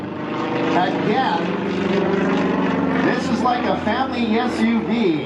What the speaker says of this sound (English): The distinctive growling sound you're hearing from the airplane comes from its very powerful 355 horsepower Benyev M14 9-cylinder radial engine.